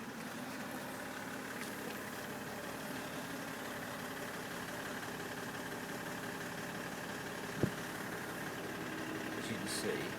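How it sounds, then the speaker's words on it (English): Diesel engine of a BMW 530d E60 idling after a start, a steady low rumble with a faint knock, close and even throughout, with one brief sharp thump partway through. "Let me start the engine."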